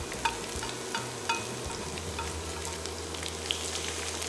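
Garlic, ginger and spring onions fry in hot oil with a soft, even sizzle and a few faint taps and bubbles, quiet and close, with no voices.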